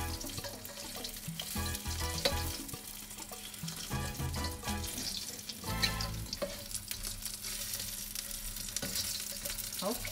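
Asian chicken wings frying in a pan while being stirred, a steady close sizzle with scraping and stirring noises over a busy kitchen background, no one talking.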